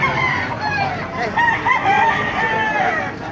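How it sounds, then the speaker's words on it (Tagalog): Many chickens cluck and squawk together with a rooster crowing amid the din, a loud crowded poultry chorus close by at an animal market in Baliuag, Philippines. "Ganda ng manok oh."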